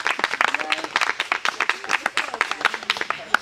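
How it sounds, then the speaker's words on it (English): A round of applause at the opening of a Canadian youth summer camp, with scattered, uneven claps from a modest group mixed with voices and chatter throughout. "Let's give a round of applause for that."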